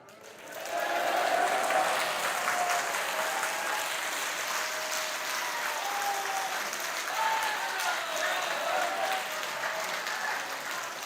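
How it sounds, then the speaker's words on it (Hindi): Sustained applause from a large audience at a Hindu devotional darbar gathering, steady dense clapping with a few faint cheers mixed in, lasting throughout. "एक बार हाथ उठा के जयकारा तो बोल दें और ताली बजा दीजिए"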